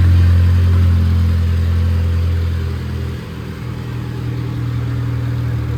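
A Suzuki Sierra 1.3 with an Elk Big Foot lift kit idles loudly and steadily up close, its engine drone dipping briefly midway before settling back into an even running note.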